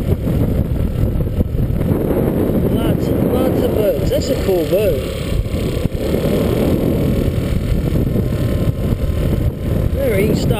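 A boat's low engine rumble churns over water, with wind buffeting the microphone and voices talking underneath.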